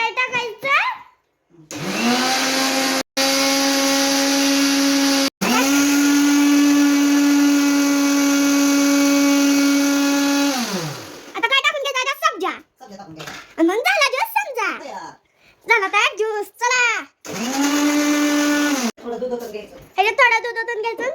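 Mixer grinder whirring loudly as cardamom is blended into a summer sherbet, a steady drone starting and stopping in several bursts with someone talking between runs.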